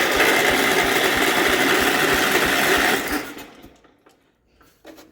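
A 1967 Gravely 430 tractor left outside for years churns loudly as its engine tries to start, a fast rattling drone that cuts out after about three seconds, followed by near silence and a small clunk.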